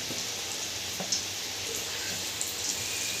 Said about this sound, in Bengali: এইভাবে সমস্ত পকোড়াগুলো ভেজে নেব।